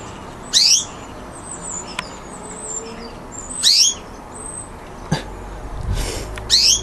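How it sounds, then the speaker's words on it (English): A white budgie chirps in short, high, bright bursts spaced a few seconds apart, rising clearly above a steady background hiss. "Look at that, he is an absolutely beautiful bird."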